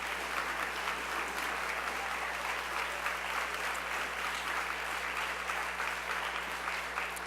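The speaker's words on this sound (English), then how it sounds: "So let's give them a round of applause." Steady audience applause fills a school district's State of the Schools event hall, a dense continuous wash of clapping from many hands at moderate distance, with no speech over it.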